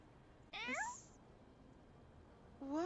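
A cat in the game My Time at Sandrock gives two clear, close meows, a long one near the start and a shorter one at the end, over quiet background hum.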